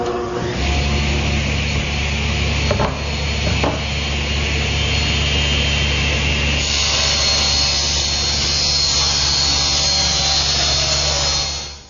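A table saw fitted with a 60-tooth blade cuts veneer plywood panels to size. Its motor whines steadily and loudly throughout, and the tone shifts partway as the blade works through the sheet.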